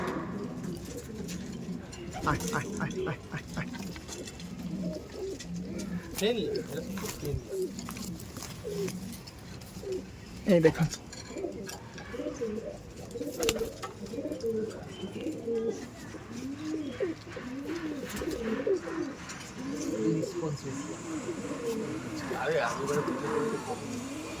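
Malbai pigeons coo repeatedly close by in a loft, soft rolling calls overlapping one another, with people talking now and then over the birds.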